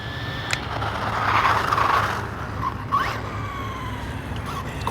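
A Rlaarlo AM-D12 RC car runs at full throttle on a 2S battery, its high electric motor whine rising and passing, with tyre noise and a brief squeal as it speeds by.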